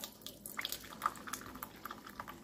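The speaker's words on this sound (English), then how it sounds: "pour your tea into the cup" Homemade ginger, lemon and honey tea poured into a cup in a kitchen, a brief close liquid trickle with small drips and splashes, no voices.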